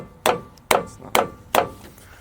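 Four sharp metal-on-metal hammer blows land at a steady, even pace on the steering pitman arm of a 1996 Chevrolet K2500 truck, each one a loud, ringing clang that decays quickly before the next.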